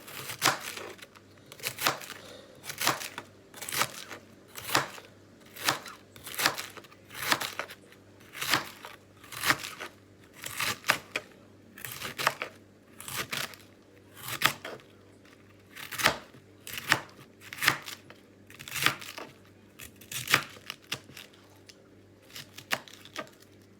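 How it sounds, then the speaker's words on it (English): A knife chops cabbage for callaloo in steady, rhythmic cuts against a board, about two strokes a second, close and crisp with no talking. "I just chop it."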